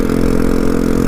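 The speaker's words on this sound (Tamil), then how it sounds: "கைஸ் வண்டி சவுண்டு தான் ரொம்ப இரிட்டேட் பண்ணுற மாதிரியே இருக்குது" Steady mid-pitched engine drone of a Rapido bike taxi motorcycle, idling or running evenly with a slight clattery edge, close and loud throughout without any talking.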